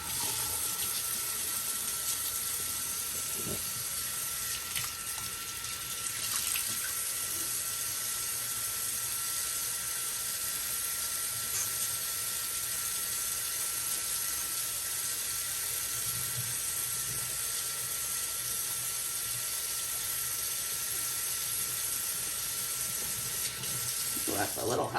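Kitchen tap running warm soapy water into a sink, a steady faint hiss of flowing water with a few clinks and brief talk over it.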